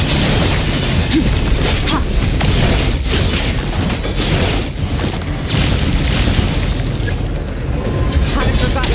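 Bomb blasts rumble in the Genshin Impact video game, a loud, sustained wall of booming and crashing debris that barely lets up, with a voice speaking underneath.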